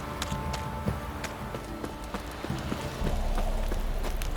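Horse hooves clip-clop in The Witcher III: Wild Hunt, a steady rhythmic series of close hoofbeats on hard ground that quickens and grows louder near the end.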